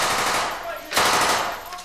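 Machine gun fire with blank rounds rattles in rapid, dense bursts during urban combat training, loud and close, with a brief dip before another sharp volley.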